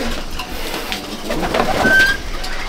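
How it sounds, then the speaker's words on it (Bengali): Pigeons cooing softly inside a pigeon loft, a few low murmuring calls close by with no talk. "হ্যাঁ তো চলুন পায়রা দেখবো।"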